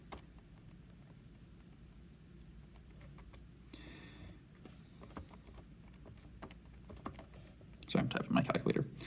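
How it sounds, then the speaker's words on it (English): Quiet, irregular clicks of fingers tapping buttons on a small keypad, then a short burst of louder rustling handling noise near the end. "I'm typing my calculator"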